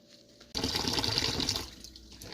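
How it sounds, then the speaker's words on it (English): Dried chiles swirled by hand in a bowl of water to rinse them, a sudden burst of loud sloshing and splashing that continues for about a second and a half before quieting. "all we're going to do is just in water, you're just going to slosh them around just like this"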